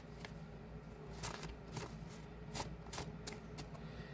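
A deck of playing cards being shuffled in a quiet room, a series of soft riffling bursts and light snaps spaced irregularly over several seconds, faint and close.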